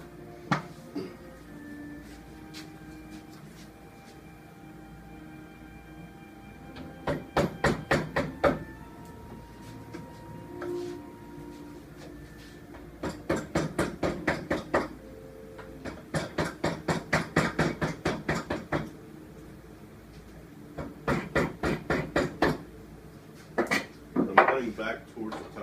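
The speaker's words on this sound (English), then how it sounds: "So let's get a chisel and a hammer time," A hammer drives a chisel into a sword handle, the sharp strikes coming in several separate rapid clusters with quiet pauses between them.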